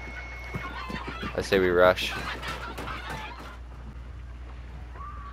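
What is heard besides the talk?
crows cawing and flying off in Hunt: Showdown video game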